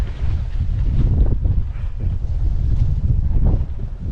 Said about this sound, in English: Very much like the Scottish wind that I remember. Here and gone, here and gone.